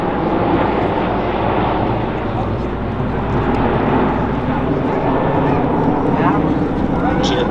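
A Polish military transport plane approaches at an airshow mass parachute drop, a steady loud propeller and engine roar filling the air continuously, with a commentator talking over it.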